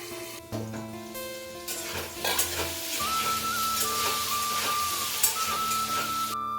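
Bottle gourd with turmeric and salt sizzles in a pan while a spoon stirs it, producing a continuous close frying hiss with scraping strokes and a thin steady whine running underneath, no voices.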